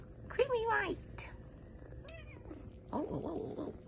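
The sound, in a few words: kittens meowing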